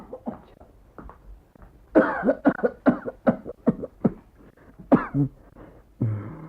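A person in a radio drama coughs repeatedly in harsh, uneven bursts, close by, with short pauses between fits and a final rasping cough.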